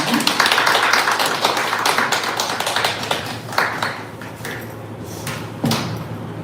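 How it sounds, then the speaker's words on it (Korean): An audience at a political party talk concert welcomes the party's Seoul chapter chairman with scattered, uneven claps that thin out over several seconds, mixed with voices and a few sharp knocks. "큰 박수로 맞아주시기 바랍니다."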